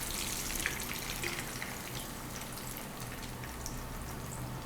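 Chicken pieces frying in hot oil for dragon chicken, a dense, steady sizzle and crackle that holds at an even level from start to finish with no voices.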